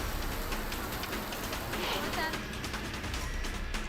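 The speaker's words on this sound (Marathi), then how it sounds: "वादळी वारा आणि विजांच्या कडकडाटासह पावसाने हजेरी लावल्यामुळे नागरिकांची तारांबळ उडाली." A dense, steady hiss of heavy storm rain in Maharashtra pours down continuously, with a voice faintly audible beneath it.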